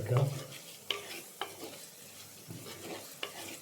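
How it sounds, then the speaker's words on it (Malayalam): Spoon scrapes and stirs ground spices, including coriander powder, frying in a pan for chicken masala; short scraping strokes come every half second or so over a soft, steady sizzle, close and alone. "ഇളക്കുക."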